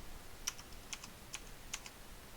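Light typing on a computer keyboard, a handful of soft separate key clicks spaced irregularly, quiet and close with no talking.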